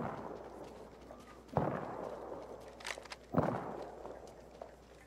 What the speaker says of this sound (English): Shots to the north.